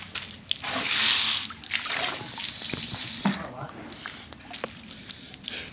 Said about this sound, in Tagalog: Awas ang tubig.